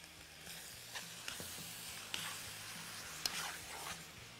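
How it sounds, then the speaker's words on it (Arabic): Meat with squeezed tomatoes sizzling in a frying pan: a steady, quiet frying hiss with faint stirring scrapes and a few small pops. "في هنا في الطاسه، ونحط عليه الطماطم المعصوره عشان يتسبكوا مع بعض شويه"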